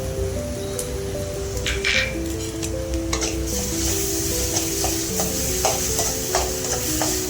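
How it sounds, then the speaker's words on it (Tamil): Ginger garlic paste and onions sautéing in a pan, with a steady close sizzle under repeated scraping and clinking of a spoon stirring against the metal. "பச்சை வாசம் போகிற வச்சு வதக்கலாம்."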